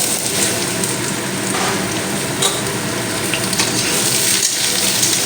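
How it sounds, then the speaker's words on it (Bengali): Cut potatoes frying in hot oil in a pan for a vegetarian dish, giving a loud, steady, dense sizzle that runs unbroken with small crackling bursts and no talking. "এবারে দিয়ে দেবো আমি কেটে রাখা আলুগুলো একটু ভেজে নেব"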